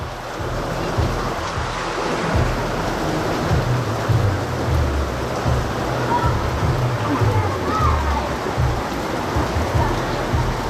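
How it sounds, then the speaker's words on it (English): Heavy tropical downpour in Naga City, Bicol, Philippines, a dense, steady roar of rain with low rumbling underneath, continuous and close for the whole stretch. "when it rains as bad as this"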